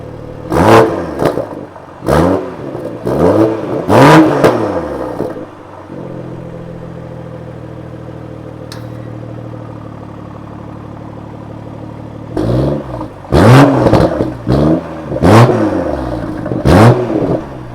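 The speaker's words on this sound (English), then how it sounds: "I'm going to play a quick clip of starting the vehicle" A 2021 BMW M340i with an M Performance exhaust starts up and revs repeatedly, loud sharp blips that fall into a steady idle for several seconds before another burst of hard revving, close by with no talking.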